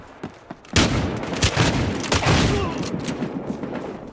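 Rapid pump-action shotgun fire in the video game Battlefield Hardline, a loud burst of close blasts starting after a short quiet lead-in and continuing with dense overlapping gunfire.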